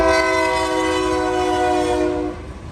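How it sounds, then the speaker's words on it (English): A loud, sustained train horn blaring close by over the rumble of a passing train, cutting off near the end as the rumble continues. "Damn train."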